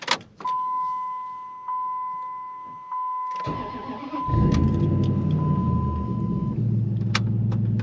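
A lowered Dodge Ram pickup truck engine cranks and catches, then settles into a steady low idle after a high electrical whine and a few clicks.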